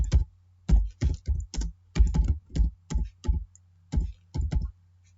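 Computer keyboard typing and clicking while entering accounts into bookkeeping software, crisp close keystrokes in short irregular bursts with pauses, over a low steady hum.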